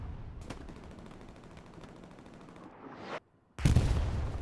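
Coaxial and hull machine guns of a tank firing in a video game, with dense rapid bursts of gunfire, a short silent gap, then louder fire resuming.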